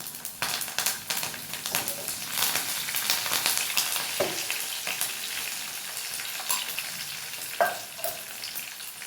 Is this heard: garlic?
yes